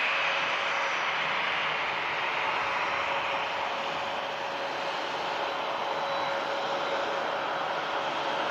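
A VistaJet jet lined up on the runway at Manchester Airport in thick fog gives off a steady, loud engine roar that holds without a break for the whole stretch.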